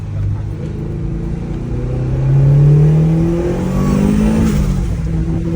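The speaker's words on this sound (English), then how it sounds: "this is our 500 horsepower AP1 motor" A Honda S2000 with a 500-horsepower AP1 engine and a new twin-disc clutch revs up and eases off during a test drive, a loud mid-pitched engine drone swelling then falling back, close and continuous.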